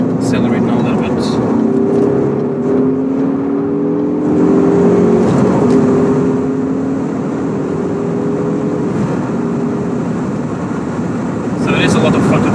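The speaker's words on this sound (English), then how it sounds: "We just accelerate now a little bit." A 2014 Ford Focus ST accelerates gently from inside the cabin, its engine drone rising steadily in pitch under road and wind noise, while someone talks over it.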